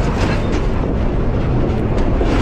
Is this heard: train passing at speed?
yes